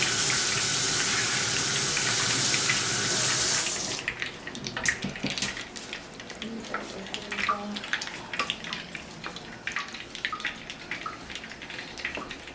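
Hot water gushes loudly from a kitchen tap for about four seconds, then stops, leaving dripping, clinks and small handling noises in the kitchen.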